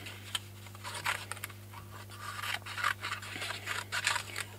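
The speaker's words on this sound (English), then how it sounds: "So what I tend to do is I just very roughly cut round it like so" Scissors roughly cut around a paper digital stamp in a series of soft, close snips and rustles, quiet over a steady electrical hum, with no talking.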